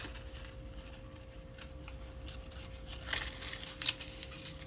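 Scissors trim the ends of gold twine, two quick soft snips near the end of an otherwise quiet stretch of faint handling rustle.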